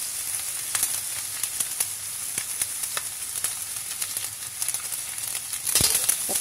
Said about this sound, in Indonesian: Jadi kamu kena bolak-balikkan bilis dan juga udang kering supaya tidak hangus.